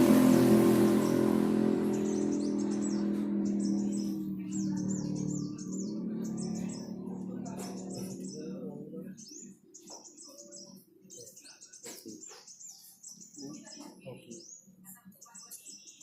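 Small birds chirp and tweet from a guava tree while birds are being trapped. Repeated high calls come in bursts over a broad rumble of handling noise that fades partway through, with scattered soft clicks.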